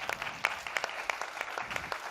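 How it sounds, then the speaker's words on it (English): An audience at a conference applauds a speaker welcomed onto the stage. Scattered, fairly faint clapping with distinct individual claps runs for about two seconds, heard from a distance. "Please welcome Yasmin on stage with a round of applause."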